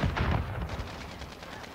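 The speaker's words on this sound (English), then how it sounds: "And look, I'm already getting shot at." Gunfire from the multiplayer shooter Call of Duty: Modern Warfare, with a quick heavy volley of shots and booms at the start that fades into scattered lighter reports and distant battle noise, without speech.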